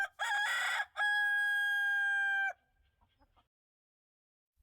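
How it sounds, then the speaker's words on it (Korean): A rooster crows at dawn in a folk tale set near a temple in Namwon, one short clucking burst followed by a long, loud, clear cock-a-doodle-doo, then quiet. "어디선가 닭 울음소리가 들려왔습니다."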